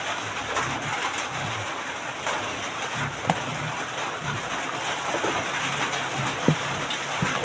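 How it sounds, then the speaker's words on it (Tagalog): Steady rain patters on a surface throughout, with occasional birds calling in the background and a couple of brief sharper taps. "So, ulan guys."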